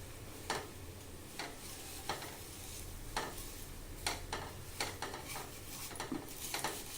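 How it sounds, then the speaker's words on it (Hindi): Vermicelli (sevai) roasts in a little ghee in a pan while a spoon stirs it steadily. Soft repeated scraping ticks sit over a faint, low sizzle, quiet and close throughout. "हल्का सा घी में रोस्ट कर ले रहे हैं"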